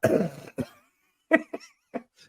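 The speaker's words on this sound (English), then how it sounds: "the first thing he does is cough" A person coughs several times up close, short harsh bursts separated by brief silences.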